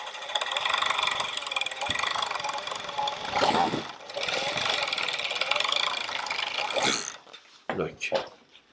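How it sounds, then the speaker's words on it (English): An industrial pedal-driven overlock sewing machine runs in steady mechanical bursts with a rapid whirring, stopping briefly twice before sputtering to a halt, with someone talking over it. "there's a pedal right here, pick up the foot, and then get down and start sewing"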